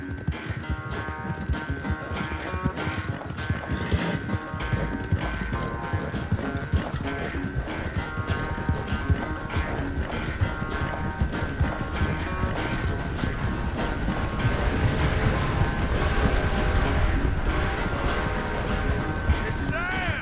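Steady hoofbeats of a ridden horse in Red Dead Redemption 2 carry on for about twenty seconds, partly buried under loud, continuous music that swells toward the end.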